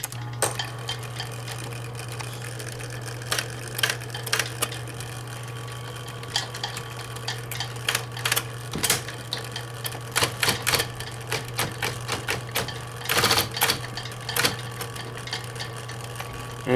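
A 1971 Smith-Corona Electra 120 portable electric typewriter, switched on and running, gives a steady low motor hum throughout. Scattered mechanical clicks and clacks sit over the hum, growing busier and louder toward the end, with no talking.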